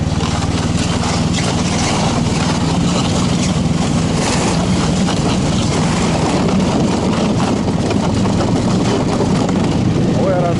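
A Tundra snowmobile engine drones loudly and continuously while driving, its roar mixed with heavy wind buffeting the microphone in stormy weather.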